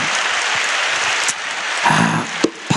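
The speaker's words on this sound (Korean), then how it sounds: "박수" A church congregation applauds in a dense, steady wash of clapping that fills the hall, then fades away near the end with a few scattered claps.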